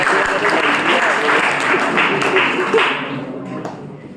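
Audience at a government school career counselling program applauds loudly and steadily for a few seconds, the clapping tapering off toward the end.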